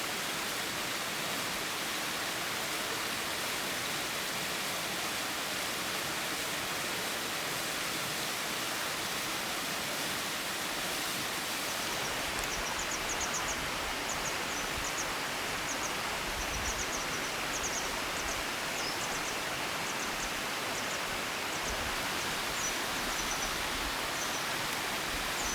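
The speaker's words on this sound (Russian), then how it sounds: "Добрались до большого полковничьего водопада." Steady broadband roar of the big Colonel's waterfall, a constant rushing wash of falling water heard alone and unbroken, with faint high chirps joining partway through.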